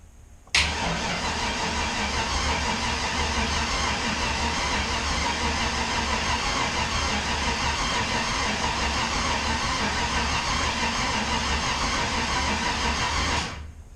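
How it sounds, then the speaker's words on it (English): LS engine fitted in a Mustang cranking on the starter, a loud continuous whirring churn that begins abruptly and runs steadily for about thirteen seconds without catching, then cuts off. "I'm just going to hit the starter button and crank"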